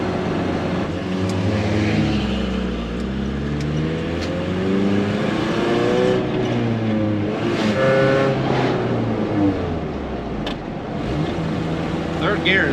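A car running on vodka in its fuel tank labours uphill in third gear, its engine droning and straining loudly and steadily throughout, with people talking over it.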